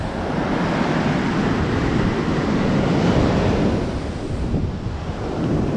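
Ocean surf at Ipanema beach in Rio de Janeiro at dawn rolls in as a loud, continuous wash of breaking waves, heavily mixed with gusty wind buffeting the microphone.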